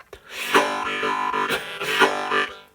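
Breathy harmonica chords from a lesson, played in short rhythmic bursts with accented puffs and swells, close and fairly loud.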